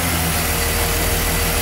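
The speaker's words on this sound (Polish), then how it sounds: "Jak słyszycie, silnik chodzi normalnie, nie zdycha, nic mu się nie dzieje." A car engine idling while warming up, running near an empty fuel tank: a loud, steady low drone with an even hum, close and unbroken throughout.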